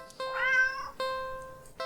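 A cat meows in an indie horror video game, one drawn-out, clear meow followed by two short tonal chirps, close and alone against near silence.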